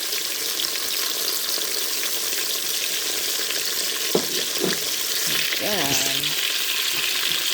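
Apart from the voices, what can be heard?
chicken thighs searing in a pan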